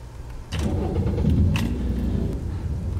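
A 2014 BMW 335i being started again, a quiet interior hush broken by the starter catch at about half a second, then a firm low engine rumble that settles into a steady idle, heard from inside the cabin.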